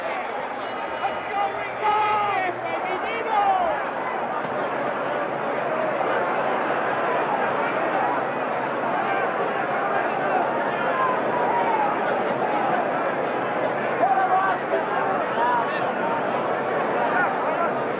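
Boxing arena crowd at a 1970 heavyweight bout, Muhammad Ali against Oscar Bonavena, roaring steadily in round ten; a dense, sustained wall of cheering and hubbub with voices mixed through it at constant loudness.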